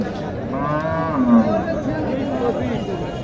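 A cow gives a drawn-out moo amid the murmur and chatter of a crowd at a cattle market in Naogaon, Bangladesh, with other livestock close by.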